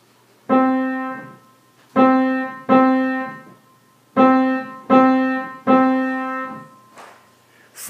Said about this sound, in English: If I played this rhythm on a piano,